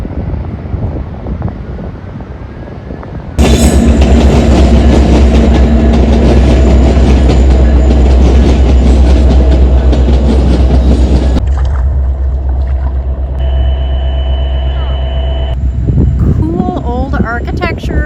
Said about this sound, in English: the gentle hum of the Elgin Metro train right behind our egret friend here.